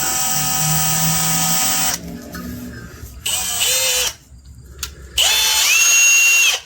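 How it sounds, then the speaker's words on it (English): A power drill winding braided wire whines loudly and steadily, dropping out and restarting several times in bursts with changing pitch as it spins. "I started winding it. I'm going to close my drill on it."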